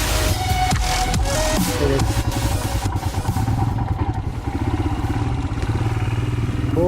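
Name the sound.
Royal Enfield Himalayan motorcycle riding an offroad trail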